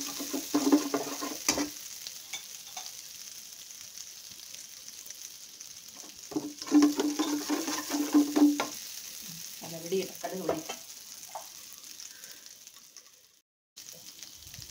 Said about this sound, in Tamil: கடுகு பொடியட்டும்.